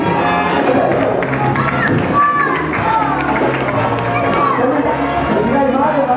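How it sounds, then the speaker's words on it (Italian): Audience at a hotel entertainment show, a lively crowd with cheers, shouts and scattered clapping running through the whole stretch while voices carry over it. "applauso tutti"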